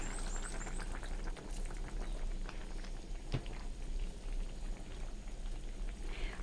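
A pot of pla ra curry with coconut cream and vegetables simmers, giving a steady bubbling and popping texture like light rain, close and continuous, with no one speaking.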